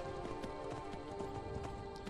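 Horse hooves clip-clop steadily through a Skyrim game scene, a continuous run of rapid, even beats over a dense layer of constant game ambience, mid-loud and without pauses.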